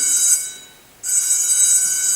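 A high electric school bell rings steadily, cuts out briefly, then resumes ringing continuously, bright and fairly loud.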